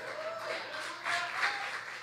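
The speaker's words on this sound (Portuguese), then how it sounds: "Pode aplaudir mais forte" Applause from a church congregation during a Portuguese-language sermon on the meaning of communion, a moderate wash of clapping swelling slightly midway through a brief stretch.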